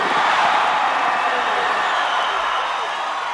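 Large arena crowd at a boxing match roaring and cheering as Apollo Creed enters the ring, a dense sustained wall of voices throughout.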